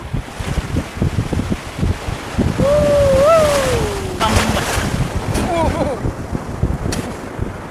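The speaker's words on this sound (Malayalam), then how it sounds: "ഒരു അടിപൊളി തിരമാല വന്നുകൊണ്ടിരിക്കുന്നുണ്ട്" Sea waves break on a beach with a steady broadband roar, mixed with gusty wind noise and faint voices in the background.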